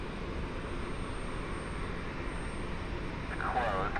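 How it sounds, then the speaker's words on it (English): An American Airlines Boeing 737 taxis at Cleveland airport after arriving from Dallas–Fort Worth, a steady broadband jet engine rumble heard from a distance, growing slightly louder near the end. "American 2336 taxiing to its gate. 737 just came in from Dallas, Fort Worth."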